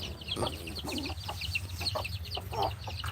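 Several chickens cluck nearby in a farmyard, giving a steady stream of short clucks and chatter over a low background hum.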